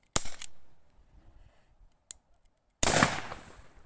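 A sharp pop from an air pistol, followed moments later by a loud burst as a pressurized bottle explodes, with rushing hiss trailing off.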